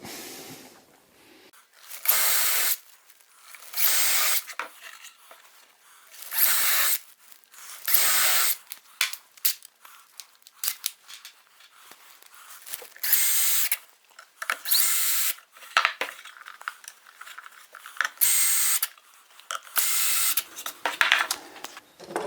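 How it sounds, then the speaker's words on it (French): A drill with a small countersink bit bores four holes in birdhouse wood, giving repeated short, close whirring bursts separated by quiet pauses, with no speech. "Je vais prendre ma petite mèche à fraiser. Et je vais percer 4 trous."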